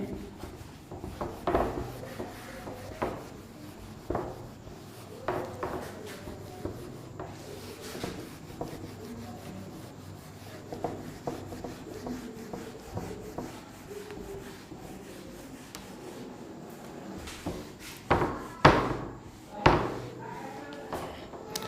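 Board eraser rubbing across a classroom board during a physics lesson, a run of scattered scrapes and soft knocks of moderate loudness with a few sharper hits near the end.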